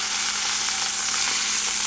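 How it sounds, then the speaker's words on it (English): Oil sizzles steadily in a hot pan on the stove as it heats for searing oxtail, a close, continuous hiss and crackle with no voices. "You can hear it sizzling."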